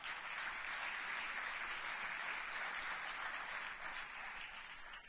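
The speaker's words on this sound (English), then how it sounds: "a round of applause for all of the finalists of the Creative Combat" An audience at an awards ceremony applauds the finalists, a steady wash of clapping from a large crowd that holds evenly and thins slightly near the end.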